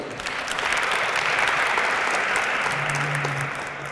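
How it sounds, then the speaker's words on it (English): A crowd claps steadily throughout, a dense, even patter of many hands that swells slightly in the middle and holds without any voices. "Give him and the mayor another round of applause"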